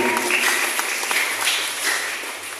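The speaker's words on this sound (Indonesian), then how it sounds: "Yang setuju tepuk tangan untuk Tuhan." Church congregation clapping together during a sermon, a steady wash of applause filling the room for a few seconds with no speech over it.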